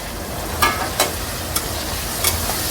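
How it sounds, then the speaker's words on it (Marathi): Chicken sautéing in a hot kadhai, a steady sizzle broken by four sharp scraping stirs of a spatula against the pan, fairly close and loud. "चिकन परतून होतंय।"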